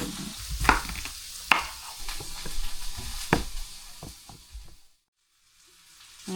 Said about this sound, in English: First thing we do here is cook our meat.